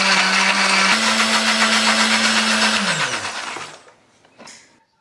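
A blender grinds a spice paste of garlic, shallots, candlenut and turmeric with a little water. It whirs loudly and close with a steady motor hum, drops once in pitch, then winds down and stops, followed by a faint knock.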